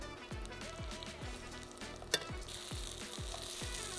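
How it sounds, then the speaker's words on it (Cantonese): Abalone pan-frying in butter, a continuous close sizzle with regular soft bubbling pops and one brief sharp clink in the middle. "用牛油將鮑魚煎至金黃色"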